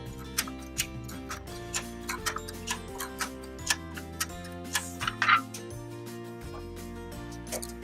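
A ratchet strap being tightened with a ratchet tightening tool, close, evenly spaced sharp clicks, one every half second or so, over a low background hum.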